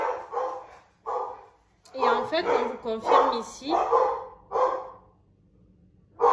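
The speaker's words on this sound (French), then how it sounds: "vous allez entendre mon chien" A pet dog barks in several short bursts close by, partly mixed in with someone talking in French.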